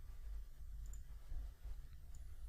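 A few faint, sharp computer mouse clicks while working in Houdini 3D software, isolated ticks over a quiet, low background hum.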